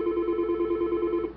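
A telephone rings indoors, a steady warbling electronic ring repeating for over a second before cutting off, clear and alone without talk.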